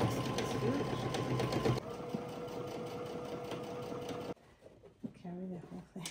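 Sewing machine stitching a large Star Wars Legends cosplay costume, running steadily and close for about four seconds, slowing partway, then stopping as a person talks briefly at the end.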